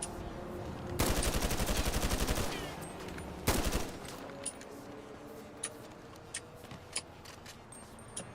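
Modded weapons in the police game LSPDFR let off two loud bursts of rapid automatic gunfire, followed by a run of sparse single shots and clicks over a low ambient hum.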